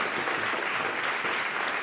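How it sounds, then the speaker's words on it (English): Steady, dense applause from a conference audience in San Francisco, filling the room for the host without a break across the short stretch. "Give him a warm round of applause."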